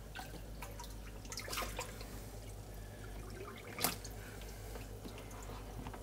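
Red-bellied piranhas are tipped with water into an aquarium tank, giving quiet trickling and dripping with occasional small splashes over a low steady hum.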